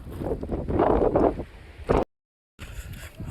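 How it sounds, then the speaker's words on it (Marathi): Cold wind gusting over a misty hilltop fort trail at Prabalgad in heavy monsoon weather, rumbling and buffeting a nearby microphone, then cutting out briefly before rushing back. "आणि वारा पण एवढा मस्त सुटलाय ना, थंड थंड गार वारा लागतोय"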